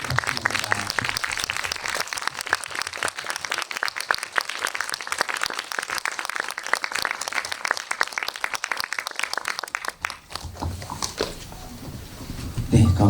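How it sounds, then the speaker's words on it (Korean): Hearty applause from a cinema audience at a film's tenth-anniversary screening event rolls on for about ten seconds, many hands clapping close by, then fades into quieter room sound and a little talk. "큰 박수 부탁드립니다."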